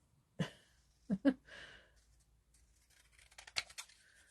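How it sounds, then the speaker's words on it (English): Scissors snip around a small paper tag in a few distinct close cuts, isolated sharp crunches early on followed by a quicker cluster of smaller snips near the end, with quiet pauses between. "using my old lady eyes off the camera to cut around the tag"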